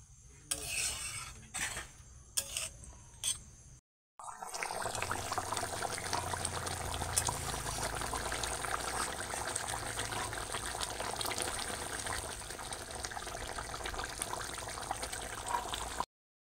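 Pointed gourd (potol) curry bubbling steadily in a pan, a continuous close simmering hiss with liquid bubbling, preceded by a few brief clinks of a utensil against the pan.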